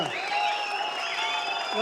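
An audience at the pre-release event for the film UI claps and whistles, a dense, continuous burst of applause with shrill whistles and voices mixed in.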